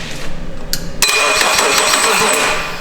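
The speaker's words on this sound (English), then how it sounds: "So starter engages and disengages as it's supposed to." A starter motor on a Scion FRS fitted with a swapped J35 engine engages with a sharp whirring spin for about two seconds, close and fairly loud, then winds down, with talk heard briefly before it.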